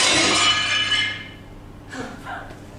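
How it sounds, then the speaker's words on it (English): A pane of glass shatters loudly at the start, the crash fading into tinkling fragments, followed by faint shuffling and breathing. "Just break the glass and get in."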